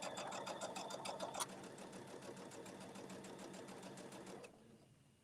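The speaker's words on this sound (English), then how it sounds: "And sewing straight at the same time." A sewing machine stitches fabric in a steady, fast mechanical whir with a rapid needle rhythm, close and constant for about four seconds before it stops abruptly.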